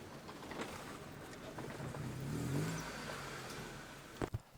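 Right-hand-drive EF wagon with freshly fixed timing driving along, a steady engine hum and road noise throughout, swelling briefly mid-way, with a couple of sharp knocks near the end.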